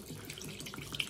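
Water poured into tomato paste while cooking, a brief splashy trickling stream with no voices, close and fairly quiet.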